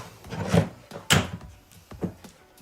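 A wooden door fitted into place on a bar built from a century-old barrel, giving a few hollow wooden knocks and thunks with short scraping shuffles between them, close by and without speech.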